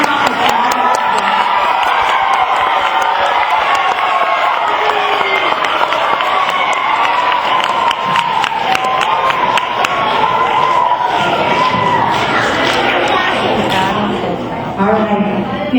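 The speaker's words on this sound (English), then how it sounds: "I'd like us to start by giving them another round of applause" Crowd at a school geography bee applauding and cheering for the student finalists, a loud continuous roar of clapping, whoops and children's voices that fills the whole stretch.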